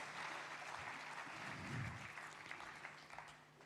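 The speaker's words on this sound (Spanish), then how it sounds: "Un fuerte aplauso para Jerónimo" An audience at a Congreso Futuro talk gives a strong round of applause for Dr. Jerónimo Villanueva, a dense wash of many hands clapping steadily, moderately distant, with a low murmur underneath that thins toward the end.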